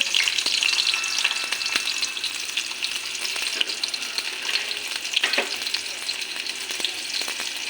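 Finely chopped onions frying in hot oil make a dense, constant crackling sizzle close up, with faint stirring ticks scattered through it and no talking.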